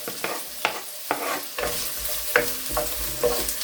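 Onions sauté in about a tablespoon of vegetable oil in a warmed pan for chicken curry. A soft sizzle is broken by quick, rhythmic scraping stirs, close and clear, with no voices.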